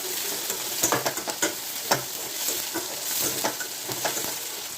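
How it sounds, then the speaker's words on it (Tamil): Onion, curry leaves and green chillies sauté in a hot pan under a bright steady sizzle, with a few sharp spoon scrapes and taps as they are stirred. "வெங்காயம், கருவேப்பிலை, 2 பச்சை மிளகாய் போட்டு கொஞ்சம் வதக்கிக்கலாம்."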